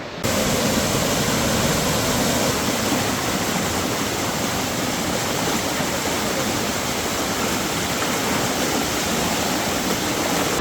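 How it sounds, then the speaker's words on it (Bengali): A waterfall torrent swollen by heavy monsoon rain roars in a constant, loud wash of rushing water, steady throughout with no voices. "দেখেন কি পরিমাণে পানি ধাক্কায় পুরো গাছের শিকড় পর্যন্ত উপরে ফেলছে"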